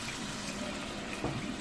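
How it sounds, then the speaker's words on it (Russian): Wine poured into risotto with cooked shrimp and zucchini makes a steady liquid rush and sizzle, close and fairly quiet, with no talking. "Наливаем мы винца."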